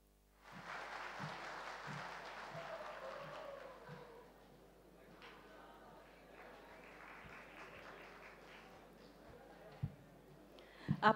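An audience at a musical evening at Gyan Sarovar, Mount Abu, claps steadily for several seconds, then the applause thins out under a speaking voice, with a few sharp knocks near the end.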